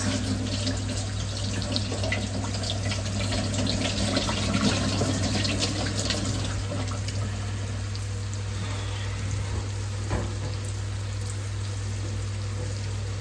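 A kitchen tap runs steadily while fingers are rinsed under the stream, a continuous close splashing rush of water with an underlying low hum and no talking.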